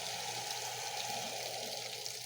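Water splashes and pours steadily inside a Frigidaire Rollermatic washing machine as the tub fills, a constant soft hiss and trickle with no voices over it.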